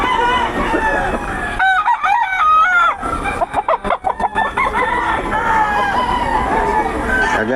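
Several roosters crowing loudly at a chicken market in Bocaue, long rising calls overlapping with clucking and a murmur of crowd babble in the background.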